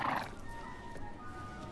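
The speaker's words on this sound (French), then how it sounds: "son nouveau cheval est prêt?" A horse whinnies briefly at the start, then quiet shuffling and faint hoof sounds follow.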